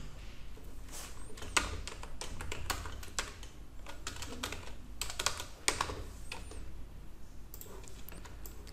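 Steady keyboard typing with rapid, uneven keystrokes and occasional louder key presses, close and continuous through the whole stretch, no voices.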